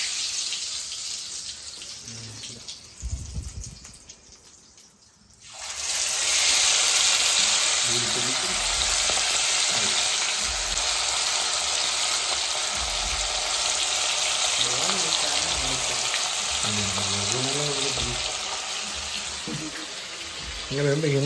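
Masala-marinated fish drops into hot oil in a pan, and after a short, quieter stretch a loud, dense crackling sizzle swells up and carries on steadily while people talk over it.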